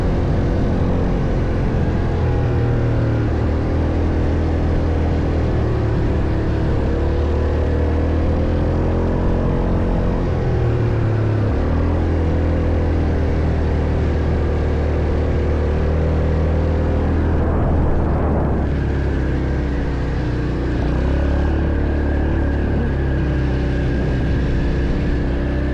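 Several ATV engines droning steadily and loud near the pyramids, with pitch shifts as riders speed up and slow down, a continuous motor roar filling the whole ride with no talk.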